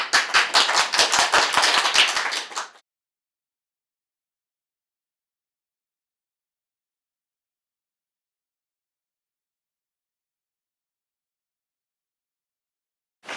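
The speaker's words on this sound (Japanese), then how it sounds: "大きな拍手を送りください" Audience clapping at a new-jockey introduction at a Hyogo racecourse, a dense burst of handclaps lasting under three seconds before cutting to silence, with a faint sound at the very end.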